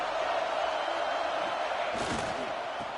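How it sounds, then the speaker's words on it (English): A basketball arena crowd sends up a dense, steady roar with a brief louder swell near the end. "This crowd ready to make its presence known."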